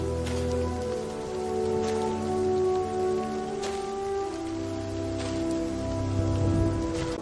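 Steady rain falls in a storm, a continuous soft hiss of drops on surfaces with a faint low tonal hum beneath, no voices.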